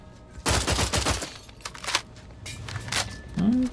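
Bursts of rifle fire from a long-range weapon in The Outer Worlds 2, several loud clustered shots with a pause and then a few more, plus game effects near the end.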